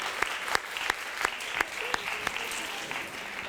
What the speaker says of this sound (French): j'en veux des applaudissements pour elle parce qu'elle est incroyable